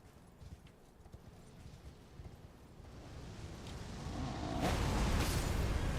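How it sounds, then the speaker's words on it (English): A horse gallops in a samurai video game, its clip-clop hoofbeats steady and rising into a louder rush of movement and wind toward the end, with no talk. "we're gonna get on the horse."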